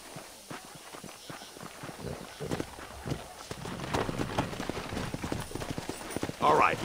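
Horse hooves clip-clop at a steady walking-to-trotting rhythm in the Red Dead Redemption video game, growing louder and closer over several seconds, with game ambience underneath.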